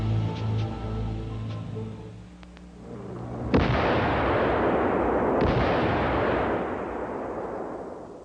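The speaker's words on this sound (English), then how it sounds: "Using C4 explosives with petrol, this Jaeger sets up a configuration used in destroying a vehicle depot." C4 explosives with petrol set off to destroy a vehicle depot, a sudden sharp blast after a few seconds of preceding sound, followed by a long, loud roaring rumble that slowly fades.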